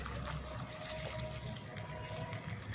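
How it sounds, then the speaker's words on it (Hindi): About a litre of water pours steadily into a bowl of sandalwood pieces and rose petals, a soft, continuous splashing rush that stays quiet and even throughout. "1 लीटर पानी डालकर"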